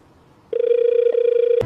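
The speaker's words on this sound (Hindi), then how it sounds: "एसपी साहब का फोन है, उठा लो" A telephone starts ringing after a brief quiet, with one loud, steady, warbling electronic ring held for about a second before it cuts off abruptly.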